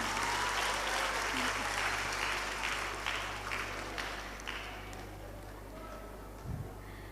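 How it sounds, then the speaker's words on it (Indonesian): An audience at an evening talk show claps for a guest invited onto the stage, a broad sustained round of applause that slowly tapers, with a steady low hum underneath. "Tepuk tangannya."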